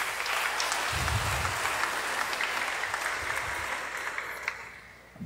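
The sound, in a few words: congregation applauding loudly at church mass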